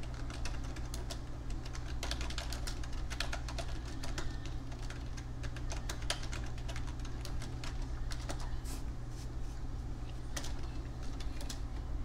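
Steady clicking of computer keyboard keys as someone types, irregular quick taps close by over a constant low hum of room or machine noise, with no talking.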